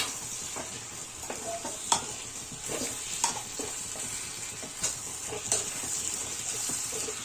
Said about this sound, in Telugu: రొయ్యలన్నీ వేసేసుకొని ఇప్పుడు బాగా కలుపుకోవాలి